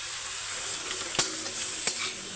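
Radish and soybean fry in a pan as salt and turmeric are stirred in, a steady soft sizzle broken by two sharp scraping clicks of the spoon against the pan, close and unaccompanied by talk.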